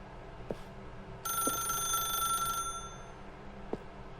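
A telephone rings in The Stanley Parable video game, a single bright electronic trill lasting just over a second over a quiet room hum, with faint soft knocks before and after.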